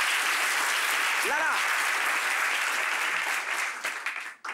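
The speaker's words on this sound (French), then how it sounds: "on peut les applaudir très fort, s'il vous plaît" Studio audience on a French-language talk show claps loudly and steadily, a thick even roar of hands, with a brief voice rising over it and the applause fading out at the end.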